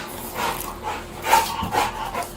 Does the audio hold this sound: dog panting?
yes